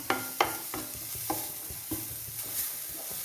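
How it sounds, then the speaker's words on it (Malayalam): Soft sizzling as boiling water is poured into frying upma with coconut in a pan, with a series of scraping stirs at irregular intervals, close and fairly quiet. "ഇനി തിളച്ച വെള്ളം ഒഴിച്ചു കൊടുക്കാം"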